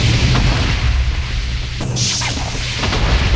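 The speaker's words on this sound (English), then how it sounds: "You can see it fires a nether portal that blows up." A nether portal fired from a weapon in Minecraft blows up with a deep rumbling boom and a sharper burst partway through, set against a loud, continuous low roar.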